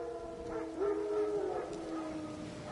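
Wild dogs howl in the fantasy game The Witcher 3, a single faint, drawn-out wavering cry rising from distant background ambience.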